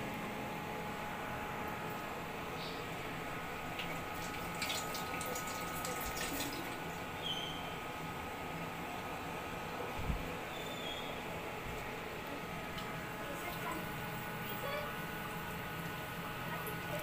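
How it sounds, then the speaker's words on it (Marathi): Vada fritters fry in hot oil with a steady, even hiss that runs unbroken and fairly quiet throughout, with only a few faint clicks on top. "आता आपण वडे तळायला घेऊयात."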